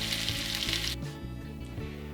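Pork cheeks sizzling as they fry in a pot, a steady loud hiss that drops away abruptly partway through, leaving a lower bubbling crackle with no voices.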